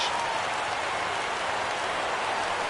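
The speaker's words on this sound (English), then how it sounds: "Crowd gets up for the 3-2." A baseball crowd in the MLB The Show video game, a dense, steady roar of cheering and applause rising for a full count, loud and unbroken throughout.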